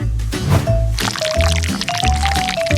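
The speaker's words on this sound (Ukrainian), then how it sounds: "а зверху виливаємо желе" Jelly poured over the top of a decorated cake, a loud, close and continuous liquid pour with gurgling and splashing that lasts under three seconds.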